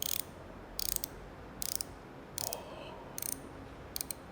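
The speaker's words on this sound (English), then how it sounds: "Oh, the ratcheting is so good." OSK reversible ratchet wrench clicking in short bursts, six quick rapid pawl runs separated by pauses, close and quiet with no talk.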